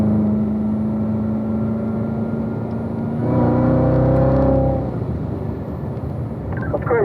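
A car accelerates through its gears, engine droning steadily before a louder rising surge and then a drop as the next gear is taken, with a faint clatter near the end.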